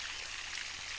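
Water gushes continuously into a drained fishpond, a close, steady splashing stream with no pauses and no voices.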